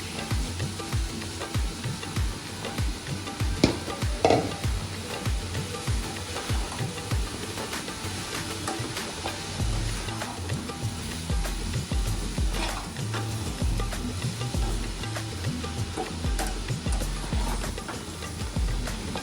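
Roasted semolina is stirred in a pan with sugar water, carrot, coconut and ghee, producing repeated scraping strokes over a soft, steady sizzle, close and without talk.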